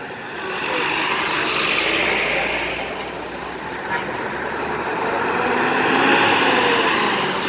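A convoy of many aid vehicles loaded with food and medicine rolls past outdoors, a steady broadband rumble of engines and tires that swells and fades over several seconds as trucks pass nearby.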